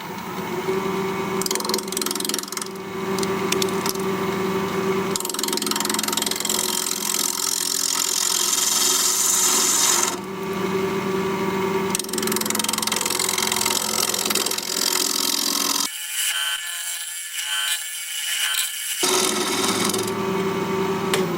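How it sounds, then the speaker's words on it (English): A half-inch standard grind bowl gouge cuts wood on a lathe spinning around 1300 RPM, giving a steady rasping, scraping drone with a humming motor, in repeated passes broken by short pauses. "We're going to use a 1/2-inch standard grind bowl gouge because it's kind of small."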